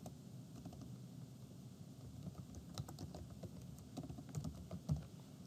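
Someone types steadily on a computer keyboard in a quiet room, producing soft, close, irregular clicks and taps with no voices.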